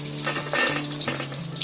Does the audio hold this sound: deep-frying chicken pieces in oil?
yes